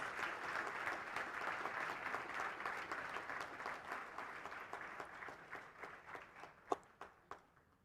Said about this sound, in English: please give a big round of applause one more time for all our awardees